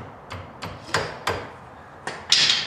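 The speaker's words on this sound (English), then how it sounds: "Grab a hammer." A hammer strikes metal parts of a spindle lift kit on a Club Car DS golf cart six times at uneven intervals, each blow a sharp close clank with brief ringing and no speech.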